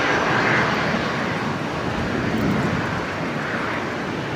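Fixed-wing airplane at Brisbane airport, a steady broadband engine roar that holds loud and continuous throughout, with some wind noise and no talking.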